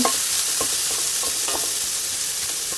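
Chopped onions frying in a pan for a spiced sprouted-bean palya, a loud continuous sizzle with intermittent scraping stirs of a spatula, close up and with no voices.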